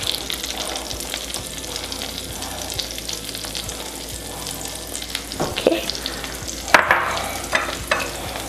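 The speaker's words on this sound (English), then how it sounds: "our oil and butter are hot. I can hear it start sizzling" Chopped green onions and coarsely chopped garlic sizzle steadily in hot oil and butter in a pan, a continuous frying crackle with a few louder stir-like clatters near the end, no talking.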